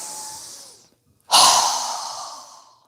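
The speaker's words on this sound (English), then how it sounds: "inhaling through our nose and exhaling with a strong breath with our mouth open" Two deep yoga breaths sound close up: a long breathy inhale through the nose fades out, then after a short pause a strong, forceful open-mouth exhale rushes out and slowly tapers off.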